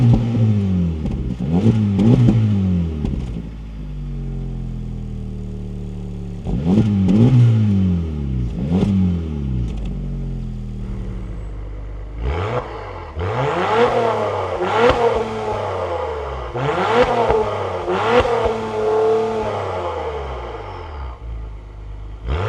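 A 2024 Acura TLX Type S and a Honda Civic Type R, both turbocharged, rev in turn: several sharp bursts that rise and fall, a first set of short blips, then a denser run of revs, loud and close with no speech.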